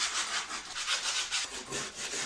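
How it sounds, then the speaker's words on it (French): Coarse sandpaper rasps against wood in quick, rhythmic back-and-forth strokes while sanding a guinea pig house, close and steady with no voices. "J'ai pris du papier avec un grain qui est très fort pour pouvoir bien limer partout."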